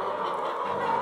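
Laying hens packed in a poultry shed with cereal feed hoppers, their dense, steady clucking and honking chatter forming a loud, continuous flock murmur.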